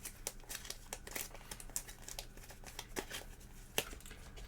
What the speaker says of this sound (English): I'm going to shuffle these up.